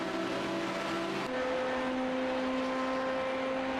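A Ford race car in the iRacing simulator, heard as a steady engine drone with a sustained tonal whine that shifts in pitch partway through, moderately loud with no talk.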